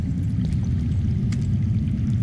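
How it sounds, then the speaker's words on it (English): Steady low rumble of water flowing underground in the Game of Thrones Telltale video game, a continuous dense wash that holds constant and fairly loud throughout with no voices. "I hear water. From underground."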